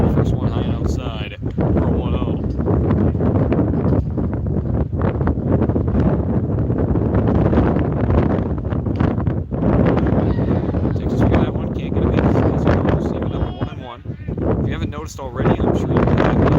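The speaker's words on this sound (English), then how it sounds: "It's extremely windy here, so I'm not even sure if you can hear it." Strong wind buffets the microphone at a varsity baseball game, producing loud, continuous rumbling gusts, with a voice speaking faintly beneath the roar.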